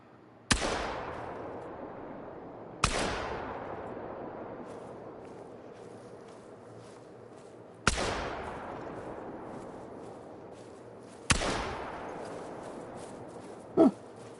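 Four loud rifle shots ring out in The Hunter: Call of the Wild, spaced a few seconds apart, each a sharp crack followed by a long rolling echo that fades into quiet outdoor ambience.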